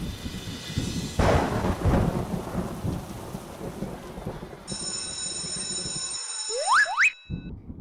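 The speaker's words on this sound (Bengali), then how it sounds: "বৃষ্টি তো সকাল থেকে পড়ছে" Cartoon rain hisses steadily while a heavy thunderclap booms early on, followed by bright ringing tones and rising whistling sweeps near the end, then a brief silence before the rain resumes.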